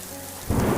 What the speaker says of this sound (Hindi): एक रात सर्दी के साथ बहुत साथ बारिश और तूफान शुरू हो गया।